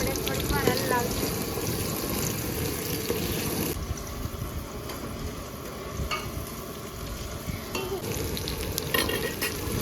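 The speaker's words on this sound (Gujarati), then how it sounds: "ગરમ થઈ ગયું છે હવે આપણે નાખશું ડુંગળી હવે" Chopped onion dropped into hot oil in a pan, giving a loud, steady sizzle and frying crackle with stirring that runs throughout, louder at the start and easing after a few seconds.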